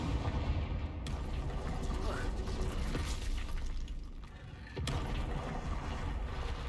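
Confringo blasting spell cast in Hogwarts Legacy, a dense rumbling blast and crackle sustained at high level, a brief dip, then another burst, amid busy game noise.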